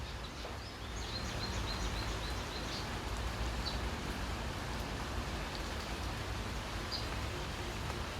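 Heavy rain pours down in a backyard, a dense, steady hiss that stays loud and even throughout with no break.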